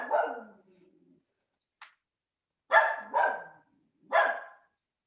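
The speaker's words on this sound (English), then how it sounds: "That sounds like a pretty cute dog." A Shetland sheepdog barks in a few sharp, loud, close bursts, with one brief bright snap between and silent gaps, no talking.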